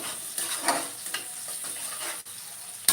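Onion lightly frying in a pan for chicken curry, a soft, even sizzle with a few gentle stirring scrapes, close and steady throughout.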